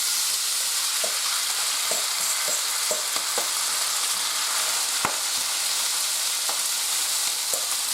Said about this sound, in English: we're going to saute this a little bit till the mushrooms get a little brown, a little soft